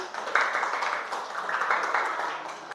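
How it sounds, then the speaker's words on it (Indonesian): A group of students applauding in a classroom, a short burst of fairly quick, light clapping from several pairs of hands, close and moderately loud, stopping abruptly at the end. "Kelompok 2 silakan tepuk tangan."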